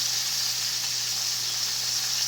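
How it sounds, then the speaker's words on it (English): Orange chicken pieces fry in a pan with a constant loud sizzle and crackle, a steady hiss that runs without pause. "While it's frying like that."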